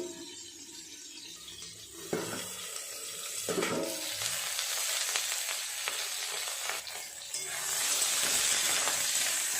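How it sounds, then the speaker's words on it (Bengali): Thick slices of eggplant fry in oil in a covered pan, giving a steady soft sizzle and hiss that swells louder toward the end, with a few light clinks and no talking. "চাপা দিয়ে ভালো করে ভাজবো।"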